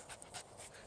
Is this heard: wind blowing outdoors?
no